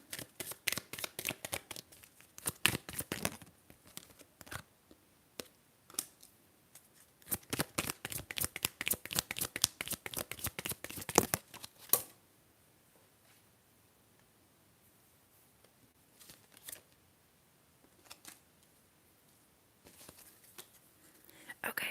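Tarot cards shuffled up close in quick, crisp riffling bursts, followed by a quieter stretch of soft taps and slides as single cards are drawn and laid down, with brief soft-spoken talk.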